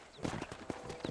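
A horse's hooves clip-clop at a walk in the video game Red Dead Redemption 2, several quick distinct thuds in an uneven rhythm, faint and brief.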